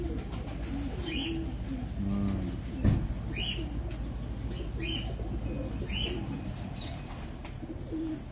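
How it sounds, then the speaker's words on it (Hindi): Rooftop pigeons cooing, soft repeated coos at a steady pace over a constant low background hum, with a brief flutter of wings partway through. "ये छत वाले कबूतर हैं"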